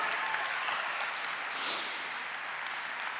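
Audience applause fills a church in a steady, dense wash of clapping that holds evenly throughout, with no talk over it.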